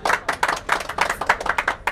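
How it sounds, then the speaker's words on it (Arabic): Audience clapping for a prize winner at a radio station giveaway event, a small group applauding in quick, uneven bursts that stay fairly close and steady. "صفقوا على فؤاد."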